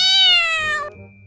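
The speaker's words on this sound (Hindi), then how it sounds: "अबे ये बिल्ली कहाँ से आ गई?" A cat gives a single loud, close meow that slides downward in pitch and lasts about a second, heard alone.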